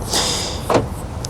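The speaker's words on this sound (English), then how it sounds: "That was the sound of opening the door." A car door is opened on a rental car in Cyprus, a quick mechanical click and short latch clunk near the middle, close and fairly loud, with no speech.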